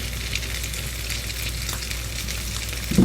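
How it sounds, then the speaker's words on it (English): An egg frying in a pan for a breakfast burger, with a steady, close, even sizzle that holds throughout, no talking. "We'll check on the egg. Don't want that to stick. I'm just going to let that cook."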